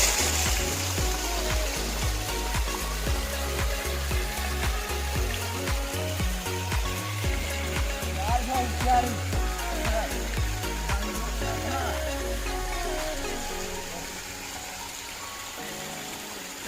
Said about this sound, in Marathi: आता मी तुम्हाला आमच्याकडचा मिनी वॉटरफॉल दाखवा